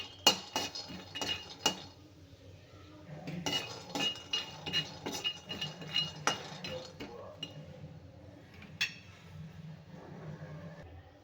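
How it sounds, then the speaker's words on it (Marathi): Peanuts roasting dry in a pan give a run of sharp clinks and rattles as they are tossed and stirred, loud and irregular over a low steady background. "आता घालूया शेंगदाणे शेंगदाने पण भाजून घेऊया"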